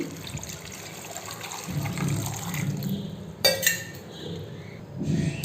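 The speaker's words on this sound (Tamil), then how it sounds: "தண்ணி கொஞ்சம் கிழங்கு மூழ்கிற அளவு ஊற்றிடுங்க" Water pours into a pot of tapioca with a gurgling, splashing rush, broken by a brief metallic clink midway; no talking.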